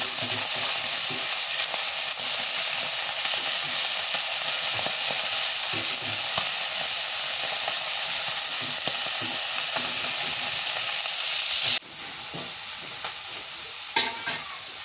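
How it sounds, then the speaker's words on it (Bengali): Fish pieces fry crisp in a pan for a pointed-gourd fish curry, giving a loud, continuous crackling sizzle for about twelve seconds. It then drops to a quieter sizzle, with a few light clatters near the end. "এই যে কড়কড়া করে ভাজছি।"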